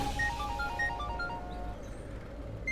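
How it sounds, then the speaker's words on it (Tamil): A mobile phone ringtone chirps an incoming call in a Tamil TV drama scene, a short melodic pattern of bright tones over low background rumble, clear but not very loud. "என்ன ரிஷி ஃபோன் பண்றான்?"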